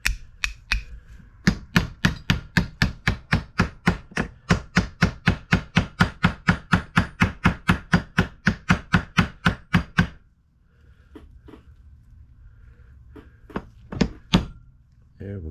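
A hammer strikes the metal pins of a knife again and again to fix its scales in place: a steady run of loud, close, evenly spaced blows, then a short pause and a few scattered final taps.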